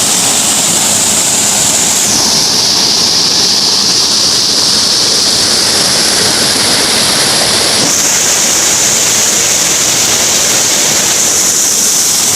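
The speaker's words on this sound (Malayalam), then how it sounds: "അപ്പോൾ ഇതൊന്നുമല്ല, വലിയൊരു വെള്ളച്ചാട്ടം." A large waterfall in the Wayanad forest roars in a loud, continuous rushing wash that stays dense and unbroken throughout, with no talking over it.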